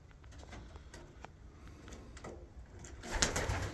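Pigeons coo softly in a loft, low repeated murmurs with occasional scuffs and shuffles, growing busier and louder toward the end.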